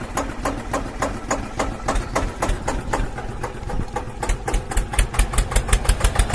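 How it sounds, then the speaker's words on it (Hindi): A toy tractor runs with a small motor that buzzes in a steady, rapid pulsing rhythm, growing slightly louder and quicker toward the end, heard close up and alone. "कितना प्यारा ट्रैक्टर है। चलो चलो इसको चलाते हैं अभी।"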